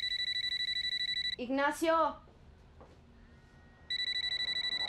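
A mobile phone rings with a loud, steady, repeating electronic trill that stops when a person speaks a short line, then resumes after a pause of near silence.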